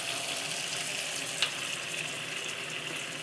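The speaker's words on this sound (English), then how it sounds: "Get a bowl, get some warm water going." Water runs steadily from a tap into a bowl, a soft, even hiss with no talking.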